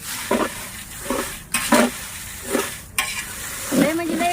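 Food stirred and roasted in a pan, with repeated scraping strokes and a steady sizzle, close and fairly loud, spoon knocking the metal now and then; no talk.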